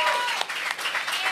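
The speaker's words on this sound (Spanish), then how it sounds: "ahora que estamos entre aplausos" Studio audience applause on a Miami TV talk show, a short burst of dense clapping that swells and fades, with voices mixed in underneath.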